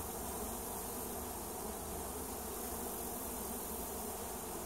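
Honey bees swarm at a hive in a dense, continuous buzz that holds steady and close throughout, with no voices.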